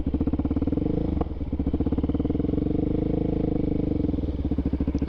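A Suzuki DRZ400SM motorcycle fitted with an MRD Z-PRO exhaust thumps steadily and loudly close by while being ridden, holding an even, rapid single-cylinder pulse throughout.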